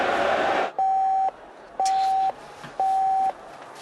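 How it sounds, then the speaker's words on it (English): Phone ringback tone while waiting for an answer, three steady beeps of even length with gaps between them, clear and close. "Come on. Pick up the phone."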